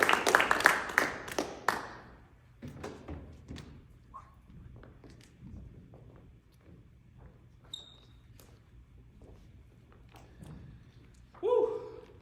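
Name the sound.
audience applause at awards ceremony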